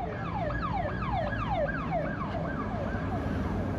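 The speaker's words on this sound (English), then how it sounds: "Wait for this ambulance." An ambulance siren on a street in Buenos Aires wails in a fast repeating up-and-down pattern, mid-distance and steady, over low traffic rumble with no talking.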